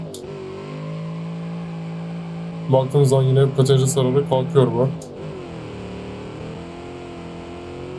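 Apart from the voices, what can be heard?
muscle car accelerating in BeamNG.drive video game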